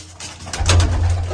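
Domestic pigeons cooing close by on a Punjabi rooftop loft, a deep throaty coo swelling and repeating in a short loud burst, heard alone.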